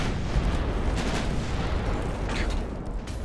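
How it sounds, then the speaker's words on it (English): Naval heavy cruiser guns firing a salvo in Ultimate Admiral: Dreadnoughts, a dense continuous rumbling roar of gunfire and booms with no clear breaks, loud throughout. "We're just shooting short."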